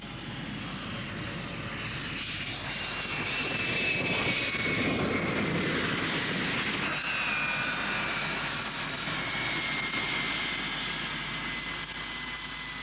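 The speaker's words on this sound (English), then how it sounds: "the people of Rotuma Island witnessed the arrival of the first commercially scheduled Air Pacific BAC-111 jet" An Air Pacific BAC-111 jet airliner arrives at a 1,500-meter airstrip on Rotuma Island, its engines a steady broad roar with a whining tone that swells in the middle and then holds, continuous and fairly distant.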